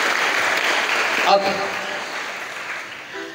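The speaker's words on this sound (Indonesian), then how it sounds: "boleh tepuk tangan" Applause from an audience at a motivational religious talk at an Islamic boarding school in Karawang, a steady dense patter of clapping under a brief spoken word, fading toward the end.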